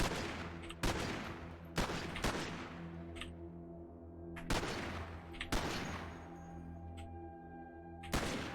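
Turret gunfire in the Cataclysm DDA video game, a series of loud booming shots spaced roughly a second apart, each followed by a long ringing decay over a steady droning tone.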